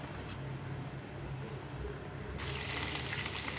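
Butter boiling into ghee in a pan with moringa or curry leaves, a steady soft bubbling sizzle that suddenly turns into a brighter, louder hiss partway through, with no talking.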